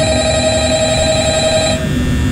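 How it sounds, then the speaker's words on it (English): A telephone rings in Five Nights at Freddy's as a steady electronic tone over a dense game backdrop, cutting off just before the end. "Here's a phone call."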